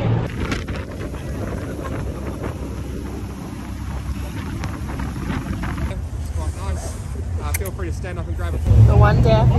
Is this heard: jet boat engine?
yes